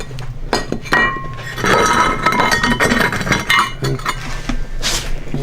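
Shards of a broken ceramic plate clink and scrape against each other in irregular bursts, close and fairly loud, with no talking.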